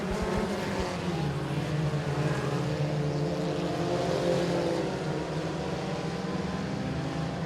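Front-wheel-drive four-cylinder race cars race at Boothill Speedway, a continuous distant engine drone that swells and fades slightly as the cars pass, with no talking.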